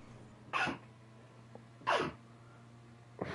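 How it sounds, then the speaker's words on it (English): A woman sneezes twice in sharp, close bursts about a second and a half apart, with a third sneeze just starting at the end, over a low steady hum with no talking. "Mama just sneezed."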